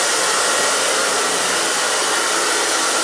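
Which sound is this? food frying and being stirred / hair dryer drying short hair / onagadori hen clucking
hair dryer drying short hair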